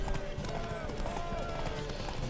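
Horse hooves gallop steadily during a horse race in the video game The Witcher 3, a dense, continuous drumming of hoofbeats heard under someone talking.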